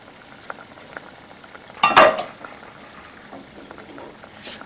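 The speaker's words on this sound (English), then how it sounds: "And we are going to add the rice. After adding the rice, mix it well." Rice pours into a pot of boiling water with a brief splashing rush, then faint stirring and bubbling continue quietly in a home kitchen while jeera rice is cooked.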